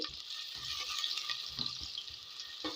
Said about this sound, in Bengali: পেঁয়াজ কুচিটা কিছুক্ষণ নাড়াচাড়া করে